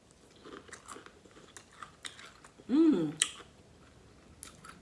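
Crispy fried chicken being chewed close to the mic, with one loud crunchy bite around the middle set among quieter, scattered mouth clicks and chewing sounds.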